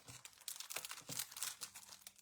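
Sparkle paper from a mini catalogue crinkles and crackles as it is handled, a quiet run of close, dry rustling bursts with no talking.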